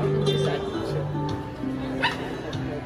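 Dogs inside a venue give short barks and high whimpers and yips in a close, uneven series while people talk nearby.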